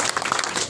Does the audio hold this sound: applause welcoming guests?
yes